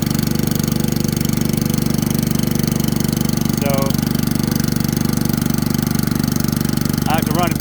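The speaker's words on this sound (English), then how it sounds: "I had to get that thing running, and I had to put a carburetor off another motor on it." Small engine running on a carburetor swapped from another motor, not jetted right and partly choked, on a septic system pump; a steady, loud, close drone holds throughout, with brief voices over it.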